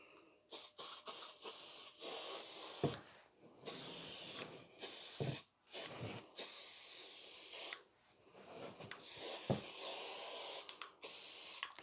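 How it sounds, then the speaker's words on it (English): Hairspray hisses from an aerosol can onto a model tree for a railway diorama, in a series of short and long bursts, close and fairly loud, with brief pauses between sprays. "Give it another spray."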